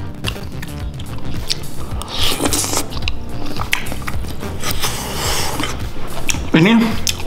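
Close, moist chewing and biting of large Indonesian bakso meatballs in a mukbang, with soft squishy mouth sounds, light utensil clinks and a brief spoken interjection near the end.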